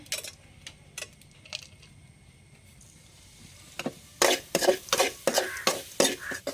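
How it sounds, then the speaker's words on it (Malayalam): Grated coconut and peppercorns dry-roasting in a pan: a few sparse light clicks at first, then a run of louder scraping, stirring bursts close by, with no voices. "ബ്രൗൺ കളർ ആവുന്നത് വരെ നമുക്കൊന്ന് വറുത്തെടുക്കണം"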